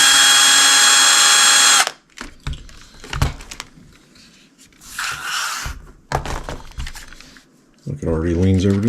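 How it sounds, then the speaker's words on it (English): A power driver whirs loudly for about two seconds while backing the belly screws out of an Axial UTB18 RC truck, followed by clicks and handling noises, then a second short burst of whirring at the end. "take the two belly screws out"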